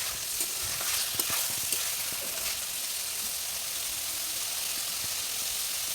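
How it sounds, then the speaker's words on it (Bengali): Chicken pieces fry in a pan with a steady, dense sizzle and hiss, close and continuous, broken by occasional scrapes of stirring and no talk. "গোস্তগুলো আমার ভাজা নেওয়া হয়ে গেছে দেখো"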